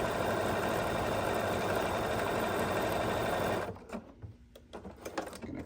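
A sewing machine stitching a seam on a quilt block runs in a fast, steady whirr for nearly four seconds, then stops, leaving faint clicks and handling noises.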